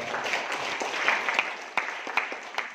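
An audience applauds at an indoor network building training session, a steady wash of clapping with a few sharper individual claps standing out.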